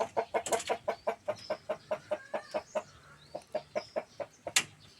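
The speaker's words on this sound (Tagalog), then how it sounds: "Manok ko." A chicken clucks in a steady, rapid series of short calls close by in a henhouse, with a louder squawk near the end and faint birdsong behind.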